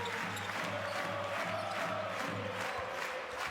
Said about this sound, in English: The drums are in full flow, as are the voices in the crowd.